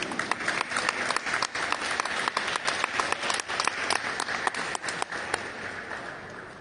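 An audience at an art and craft award ceremony applauds a regional prize winner, with sustained clapping carrying sharp individual claps throughout and a slight fade toward the end.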